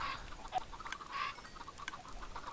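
Chickens clucking in Minecraft, a few short, clipped bursts at a modest level, spaced unevenly with no voices over them.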